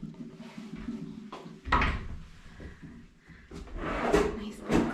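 In an Aria hotel room in Las Vegas, a closet door rattles and thuds open nearby, followed by several clacks and bumps of fittings and handling.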